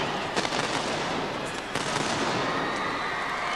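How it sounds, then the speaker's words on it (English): A Royal Navy field gun fires during a gun-run competition. Sharp reports crack out near the start and mid-clip over a dense, noisy crowd and outdoor roar. "And they're wheeling the gun into position, preparing to fire."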